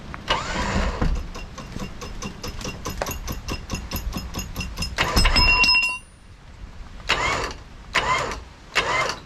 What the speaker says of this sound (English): So I've had to use Bullett's winch on a snatch block back to the 79